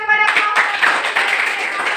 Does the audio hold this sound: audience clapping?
yes